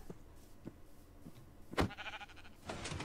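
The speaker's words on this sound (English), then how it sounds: "let me summon another sheep" Several sheep bleats from Minecraft, a few short faint calls followed by a louder bleat and then a longer bleating cry, heard alone without talk.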